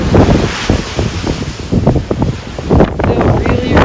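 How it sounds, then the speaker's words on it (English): Strong wind buffets the microphone on the deck of the Carnival Magic cruise ship in rough seas, with big waves surging and crashing below in a loud, continuous roar. "Still really rough seas. Big waves."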